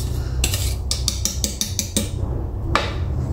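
Utensil clinking and scraping against a bowl while banana cake batter is mixed, a quick run of about seven sharp metallic taps followed by a single louder clink, close and alone.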